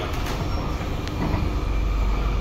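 A C151A subway train runs steadily with a dense, continuous rumble and rolling wheel noise, loud and close throughout, with faint high squeals flickering near the start.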